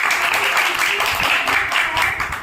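An audience claps together at a book review event honouring a district magistrate, a dense, steady patter of many hands lasting throughout, with some voices mixed in.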